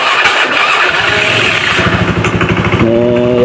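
Honda Beat carburetor scooter with a V-belt problem runs steadily nearby, a loud buzzing engine drone with a rapid pulsing rhythm throughout.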